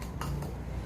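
A spoon stirs sugar into a seasoning sauce in a bowl, making a few light clinks and scrapes in quick succession, close and moderately quiet.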